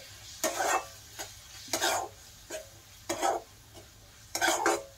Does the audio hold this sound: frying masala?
yes